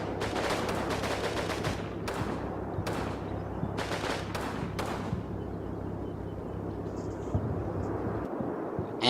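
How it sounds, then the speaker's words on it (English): Gunfire in the Combat Mission: Fortress Italy wargame, New Zealand troops fighting Germans, with rapid repeated shots and machine-gun bursts in the first half, then a steady rumbling din that keeps going without talk. "Seems like it was just an exchange of gunfire at this particular point."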